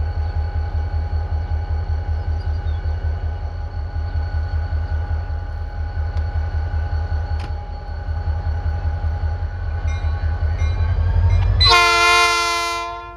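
A Norfolk Southern SD40-2 freight locomotive idles close by with a steady low diesel rumble and rhythmic throb, then a loud multi-tone horn blast near the end, no talking.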